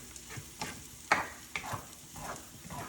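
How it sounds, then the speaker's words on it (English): Vegetables and eggs are stirred and scraped around a hot pan over medium heat for chicken fried rice, with a steady sizzle of frying under short, repeated scraping strokes, close and fairly quiet. "We're just going to kind of give those little scrapes around and mix those veggies in there with them."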